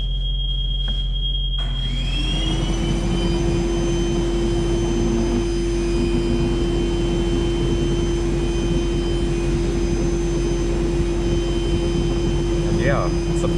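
After a short start, an insulation blowing machine pushes material through a KD3 nozzle with a loud, steady whooshing roar and a sustained mechanical whine, running continuously and close.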